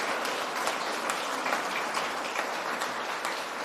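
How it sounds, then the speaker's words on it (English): A round of applause at an awards ceremony, a steady wash of clapping from a moderately sized audience heard alone for a few seconds. "So a round of applause."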